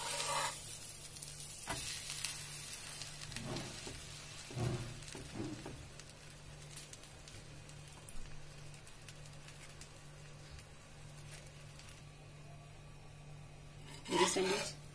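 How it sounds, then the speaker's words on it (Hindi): A buttered aloo masala sandwich, a spicy potato filling, toasts slowly in a pan over a low flame, giving a faint, steady sizzle with a few soft clinks of cookware now and then. "मेरी सैंडविच एक तरफ से अच्छे से सिक चुकी है"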